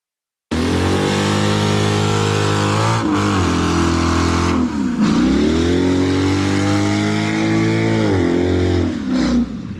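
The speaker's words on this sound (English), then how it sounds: "And this is with burnout and nitrous." A car roars through a smoky nitrous burnout, its engine revving hard and loud in sustained pulls with brief dips between them, alone and close up.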